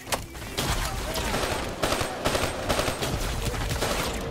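Gunfire in the Call of Duty Black Ops 3 video game, a dense, continuous barrage of rapid shots rattling loudly throughout without pause.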